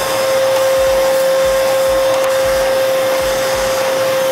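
An Arnica Vira washing vacuum cleaner drones loudly and steadily up close on a carpet, a constant whine with faint rhythmic thumps as the nozzle moves back and forth.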